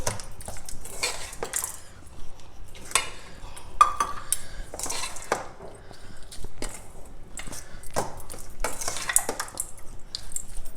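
Turmeric and spices stirred in hot oil in a pan for gongura pulihora, a spoon scraping and clinking in repeated strokes over a soft sizzle, close and moderately loud.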